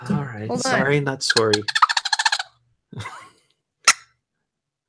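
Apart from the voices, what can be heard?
squirrel call, wild game call used as woodchuck call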